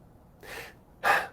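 A voice imitates short, shallow, stressed breathing: a soft quick inhale, then a sharper, louder breath, close and alone with no speech.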